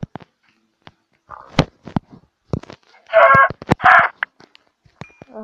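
Chicken clucking in the Minecraft video game, heard as two short, close bursts of clucks in the middle of a stretch of scattered clicks and game sounds.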